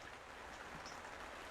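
Rain falls outside a church as a faint, even hiss of drops with no pauses and no voices.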